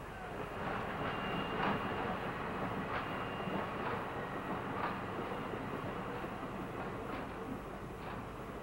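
A heavy passenger train of 25 coaches, some 2,250 tons, rolls steadily along the rails with a continuous rumble and faint rhythmic clatter, heard alone with no voices.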